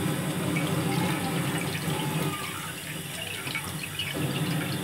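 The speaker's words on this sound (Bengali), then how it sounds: "চাউলগুলো ধোয়া শেষ, এবার আমি এটাকে পানি ঝরিয়ে নিব।" Water drains off freshly washed rice in a kitchen, a steady splashing trickle with faint drips that eases slightly midway before picking up again, with no talk.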